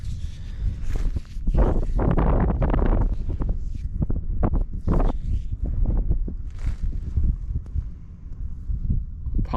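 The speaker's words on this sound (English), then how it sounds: "Apologize if it's super windy." Loud, steady wind buffeting the microphone throughout, with rumbling gusts and some scattered clatter of movement close by.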